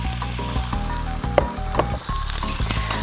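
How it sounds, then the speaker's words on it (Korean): Beef and onions stir-frying in a hot pan, a steady close sizzle of frying with small scraping and clicking sounds as chopsticks loosen the meat. "고기를 넣고 볶으실 때는 젓가락으로 가볍게 풀어주는 게 좋은데"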